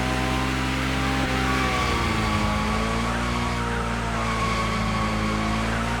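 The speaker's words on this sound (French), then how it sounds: "Can you drift as long as the Kentucky Cobra?" A car drifts with a loud, sustained tire squeal over a steady engine drone, heard close and continuous throughout without speech.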